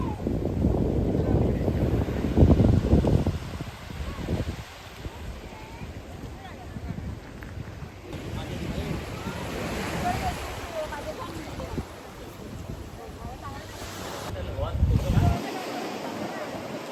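Waves and wind on a beach in Goa make a broad, steady wash with gusts buffeting the microphone, louder early on, while people talk over it.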